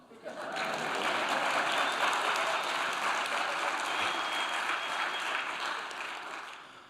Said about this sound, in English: I'll hold for applause